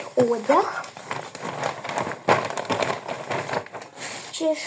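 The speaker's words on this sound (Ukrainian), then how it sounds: "будемо це все складати в пакетик" Items such as wet wipes, nail polish and hair accessories are packed into a small plastic bag at close range, giving crinkling rustles and light clatters in irregular bursts, while someone talks over them.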